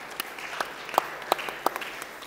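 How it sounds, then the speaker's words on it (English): An audience at a football summit event applauds, a thin spread of clapping with a few sharper individual claps standing out over a roomy background. "let's give a big round of applause for Nelson Mandela Bay."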